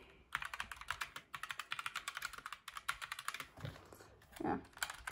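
Rapid typing on a Redragon K552 mechanical keyboard, a quick run of crisp clicky keystrokes in close succession with short pauses, recorded close and fairly quiet, one louder thump near the end.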